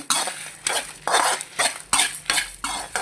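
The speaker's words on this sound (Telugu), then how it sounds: "ఒక స్పూను ధనియాలు, జీలకర్ర, ఇది ఇలా మంచిగా వేపేసుకున్నామండి" Coriander seeds and cumin dry roasting in a pan: a utensil stirs and scrapes in repeated close strokes, roughly every half second, with a light crackle in between and no voices.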